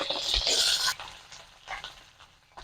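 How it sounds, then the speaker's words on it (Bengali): Fennel seeds and onion petals hit hot ghee in a burst of loud sizzling for about a second, then the frying settles into a quieter, uneven crackle. "ঘিটা আমাদের গরম হয়ে গেছে এবারে পরিমাণ মতন আমি মৌরি ফোড়ন দিচ্ছি পেঁয়াজের পাপড়িগুলোকে দিয়ে দিচ্ছি"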